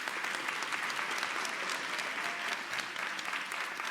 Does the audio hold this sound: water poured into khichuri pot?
no